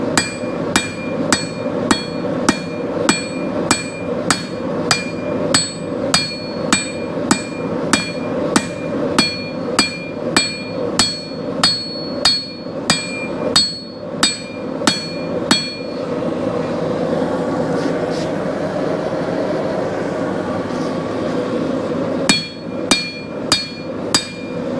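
A hammer pounds red-hot steel into a fire pit ash shovel head, sharp metallic ringing blows in a fast steady rhythm for about fifteen seconds, a pause filled with low rumble, then a few more close, loud strikes.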